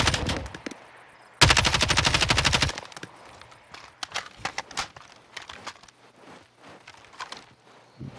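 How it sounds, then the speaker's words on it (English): Automatic gunfire from the Call of Duty Warzone video game, a loud sustained burst followed by scattered shorter shots and clatter at varying distances. "They're just shooting at me."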